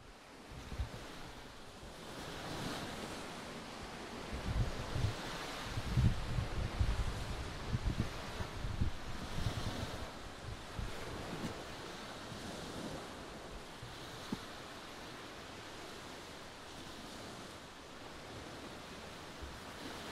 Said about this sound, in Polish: To już jest morze.